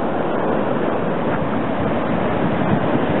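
Sea waves wash continuously onto a volcanic beach at Seixal, Madeira, a steady broadband surf roar with wind noise, fairly close and unbroken.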